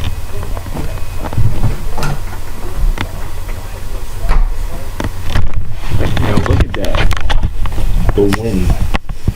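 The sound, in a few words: hurricane wind blowing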